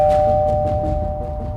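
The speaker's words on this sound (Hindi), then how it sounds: "तभी डोरबेल बज गई" A doorbell chimes in a home, a steady two-tone electronic ring sustained for the full moment over faint room noise, with no voices.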